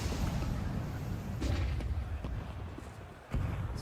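Pistol shots ring out in a Counter-Strike 2 esports match, several sharp cracks spaced irregularly over a constant low background rumble, fairly faint.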